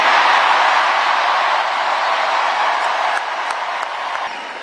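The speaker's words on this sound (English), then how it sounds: "So I shortened up some of that cheering because I respect your time" Sustained crowd applause and cheering fill the room evenly as a steady wash of noise, easing slightly toward the end, with no voices standing out.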